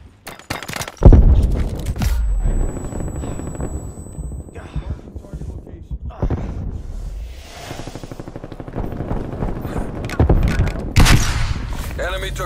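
Call of Duty Black Ops Cold War match with a loud frag grenade blast near the start and bursts of rapid gunfire, then more scattered shots and a second heavy bang near the end, with in-game radio voices calling out under the action.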